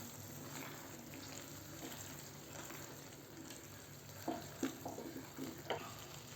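Soft scraping and clinking of a spoon stirring kidney beans (rajma) in a pot, a few louder knocks near the end, over a steady low sizzle.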